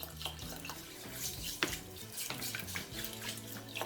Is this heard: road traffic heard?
no